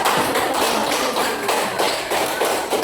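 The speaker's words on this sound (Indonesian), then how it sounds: "Kita beri aplaus untuk kelompok 3" Clapping from a primary school class for a student group, a dense steady patter of many hands filling the room at close range with no talk over it.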